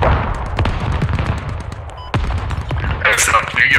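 Artillery strike in the Squad video game: a steady barrage of booming impacts and crackling gunfire, with repeated sharp blasts over a loud rumbling bed and a brighter burst of debris near the end.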